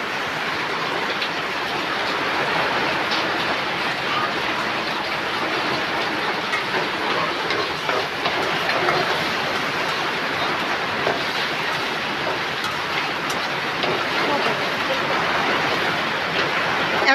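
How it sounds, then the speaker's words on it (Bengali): Heavy rain pours down steadily outside while someone cooks, a loud, dense, unbroken hiss and patter lasting throughout. "খুব বৃষ্টি পড়তেছে"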